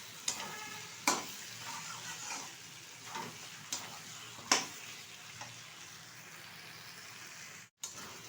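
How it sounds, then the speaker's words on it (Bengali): A spoon stirs desi chicken with Kashmiri chilli powder in a pan, giving several sharp scraping knocks over a soft, steady sizzle, with quieter stirring between them. "আবারও বেশ কিছুক্ষণ কিন্তু আমি নেড়ে চেড়ে নেব।"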